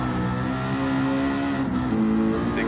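A mostly stock Ford Mustang GT350 with aftermarket exhaust cam and exhaust manifold drives a race track, its V8 droning loud and steady at high revs, with a slight pitch shift near the end.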